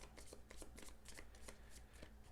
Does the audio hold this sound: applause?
no